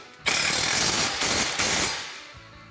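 Hand wrench work on bolts fastening a front bumper to a Polaris RZR Pro XP: a dense metallic rattling and ratcheting burst of about two seconds, close and fairly loud, fading at the end.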